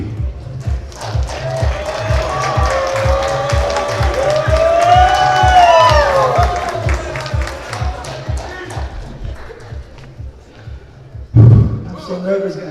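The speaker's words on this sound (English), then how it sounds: "please keep those hands clapping" Wedding guests at a valima celebration clap in a steady rhythmic beat alongside loud music, the clapping continuing under the sound, with a brief louder burst near the end.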